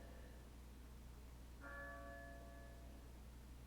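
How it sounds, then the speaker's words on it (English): An old European-style cathedral bell tolls in the horror video game Resident Evil 4 Otome Edition, one ringing strike with a long sustained metallic hum that decays slowly over a quiet, steady backdrop. "The sound seemed like one of those old church bells they ring at European cathedrals."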